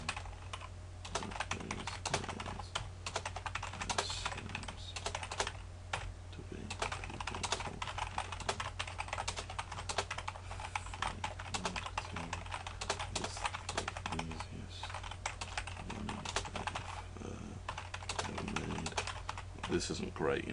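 Steady typing on a computer keyboard while writing a blog post, with continuous rapid key clicks throughout over a low background hum.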